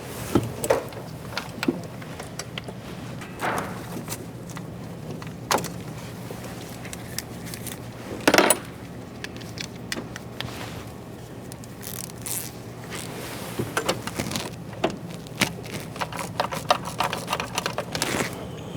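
Scattered metallic clicks, taps and clunks of hand tools loosening nuts from the diesel injection pump on a 1999 Mercedes-Benz E300, close and intermittent over a quiet room tone, with no voices.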